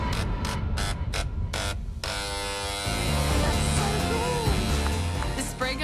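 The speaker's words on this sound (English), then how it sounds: "The spray gun is so noisy and kind of fierce." A handheld spray gun on a chocolate-spraying station in a cooking competition kitchen, its loud, fierce mechanical buzz starting after a few short bursts and running steadily to the end, with music and faint studio noise beneath.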